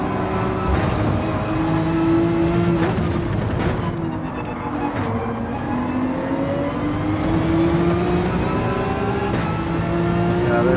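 A GTR race car in a racing video game drones with engine whine rising and falling through gear shifts and acceleration, loud and steady, with no talking.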